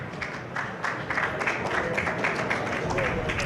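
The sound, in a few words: applause from reporters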